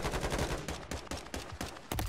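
Rapid gunfire in a shooter video game, with dense overlapping shots and bursts that crackle continuously and hit loud and close, with no pauses across the whole stretch.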